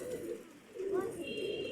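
Pigeons at a loft give a low, rolling coo, one drawn-out call rising and falling in the middle, fairly close over a steady murmur of background noise.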